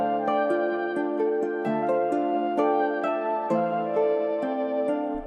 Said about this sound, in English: It's actually this ancient Duduk flute from Sonoscore.